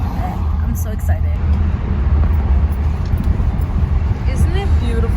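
Steady low engine and road rumble from inside a moving car, constant and fairly loud throughout, with faint voices or background sounds now and then.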